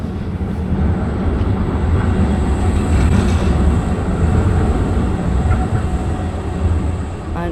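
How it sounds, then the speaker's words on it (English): Trams rumbling past on a street in Prague, a loud, dense, steady roar of wheels and motors filling the whole stretch, close by, with no talk. "there is quite a lot of trams and they are quite regular"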